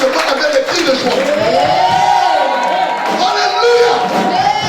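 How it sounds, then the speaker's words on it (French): A church congregation breaks into loud cheers and shouts of joy with some clapping, a dense crowd roar with rising and falling voices that stays close and continuous. "vos applaudissements avec des cris de joie"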